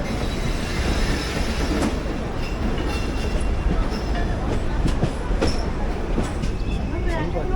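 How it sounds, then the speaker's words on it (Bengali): The Rajdhani Express rolls toward a platform at Sealdah in a loud, steady rumble of wheels on track, with thin metallic squeals and clicks from the rails and someone talking over the din. "রাজধানী এক্সপ্রেস এখন প্ল্যাটফর্মের দিকে দিয়ে দিচ্ছে"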